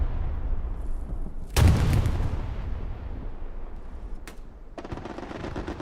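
Aircraft strafing run in a WWII video game at Carentan: a loud burst of explosive gunfire and blasts that rumbles and decays, followed by further sharp cracks and rattling fire.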